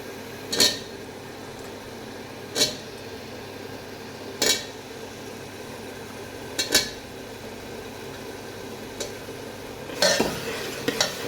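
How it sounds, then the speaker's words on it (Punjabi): Potatoes tossed into a sizzling cumin tempering and stirred, a low continuous sizzle broken by five or six sharp metallic clanks of a spoon against the pan, spaced a second or two apart, close and clear. "ਤੜਕਾ ਆਪਣਾ ਭੁੱਜ ਚੁੱਕਾ ਵਾ ਹੁਣ ਆਪਾਂ ਇਹਦੇ ਵਿੱਚ ਜਿਹੜੇ ਆਲੂ ਜੀਰੇ ਉਹ ਪਾ ਦਾਂਗੇ"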